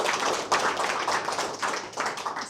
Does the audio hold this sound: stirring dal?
no